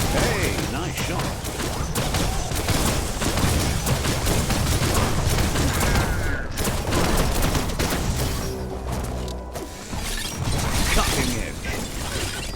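Rapid gunfire blasting an enemy in the video game Biomutant, loud overlapping shots and mechanical clatter with a brief break near the end, under a voice talking.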